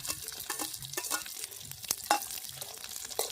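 Onion and tomato frying in a pan make a soft, close sizzle with intermittent stirring and scraping strokes, fairly quiet and without voices.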